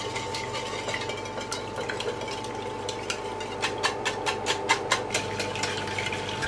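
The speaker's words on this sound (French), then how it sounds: "on va rajouter les œufs et mélanger" Lemon juice, sugar and eggs are stirred in a bowl over a bain-marie for a lemon tart, a steady run of light whisk taps and scrapes over a constant hum, growing quicker and firmer toward the end.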